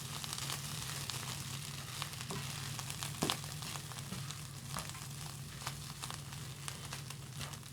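Beef noodles, Singapore style, are tossed with dark soy sauce in a hot pan, giving a steady, close sizzle and fry with scraping stir strokes and a sharp clack of utensil on pan partway through.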